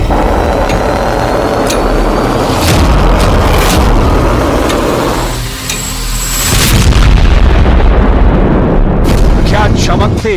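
Loud, sustained rumbling explosion effect for a nuclear bomb blast, a heavy booming roar that dips briefly midway before swelling again with crackling debris-like bursts toward the end.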